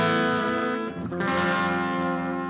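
Electric guitar played through a Boss GT-1000 on its Boutique Crunch preset, a sustained bluesy crunchy distorted chord that rings out, is briefly re-struck midway, and continues, loud and with no talk over it.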